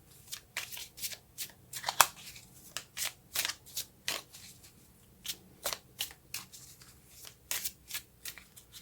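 Tarot cards are shuffled and drawn from a deck in a rapid run of crisp, papery riffles and snaps, close and fairly loud, with brief pauses between bursts and no talking.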